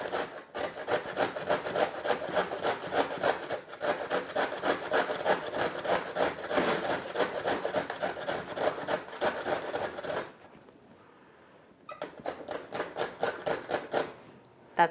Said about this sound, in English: this is the part that I won't grate